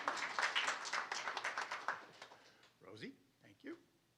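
Audience clapping at a resident council assembly, a dense burst of applause for about two seconds that fades out, followed by a speaker's voice.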